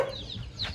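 Shamo chickens, a set of two hens and a rooster, give a brief, quiet cluck or two at moderate distance, heard alone for under a second.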